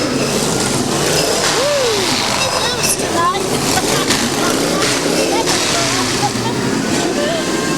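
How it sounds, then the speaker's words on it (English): Loud Shriners' cars roll past in a city parade, a dense, steady engine roar that never lets up, with crowd noise and voices mixed in throughout. "I think these are the loudest cars I've heard so far."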